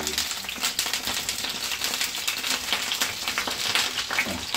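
Cauliflower frying in a hot, preheated pan, giving a steady, dense sizzle that stays loud and even throughout with no voices.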